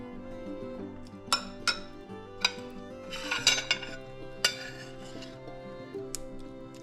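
A metal spoon clinks against a dish of mutton curry, giving several sharp, bright taps spread over a few seconds beneath quiet background music.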